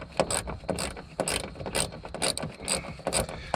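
Quick ratcheting clicks come in short bursts as 8mm nuts are tightened onto the brake light studs of a Nissan Altima; close, crisp pawl clicks with brief pauses between strokes, no talk.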